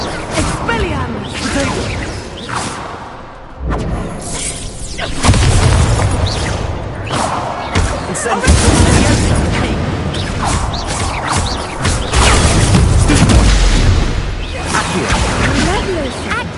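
Expelliarmus spell combat in Hogwarts Legacy, with loud blasts, whooshes and crashing impacts over busy game audio, and a voice shouting during the fight.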